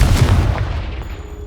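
Confringo blasting spell exploding in Hogwarts Legacy, a deep booming blast at the start that decays into a fading rumble with a faint high ringing tone.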